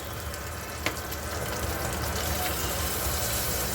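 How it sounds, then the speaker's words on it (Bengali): Potatoes frying with turmeric powder in a pan, giving a steady, dense sizzle that holds at an even level throughout, with one brief clink near the start. "আলুগুলোকে একটু ভেজে দিচ্ছি।"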